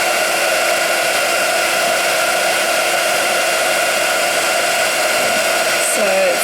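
A heat tool blows a steady, loud whooshing hum with a faint tonal whine while melting embossing powder, continuous and close, ending with a brief murmur of a voice.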